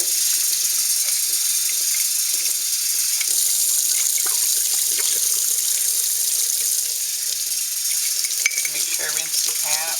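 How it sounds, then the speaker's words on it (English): Tap water runs into an empty bottle being rinsed at a kitchen sink, a steady splashing hiss with small gurgles and clinks, close and continuous with no talking. "After I empty a bottle, I always rinse it out."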